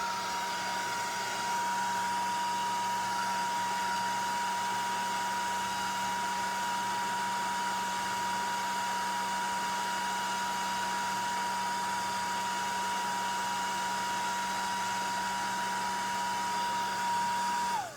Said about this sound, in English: I'm going to put my hairdryer on low just for a little bit